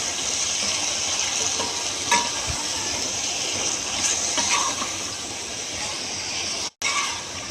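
Beef karahi masala with tomatoes, coriander, cumin, garlic and ginger paste fries in a wok, giving a steady, loud sizzle and hiss with occasional stirring scrapes and no talk.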